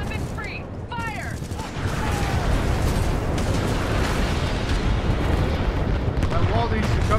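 Heavy weapons fire and explosions from the Titanfall 2 campaign roll into a dense, continuous, loud barrage, with faint whistling streaks early on before the rumbling blasts build and hold steady.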